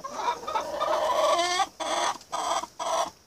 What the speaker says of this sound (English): These are our chickens.